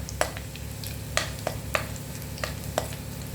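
Garlic frying in a pan for sabudana usal, a Maharashtrian tapioca pearl dish: a steady close sizzle with a few sharp stirring clicks and scrapes spaced through it, no voices.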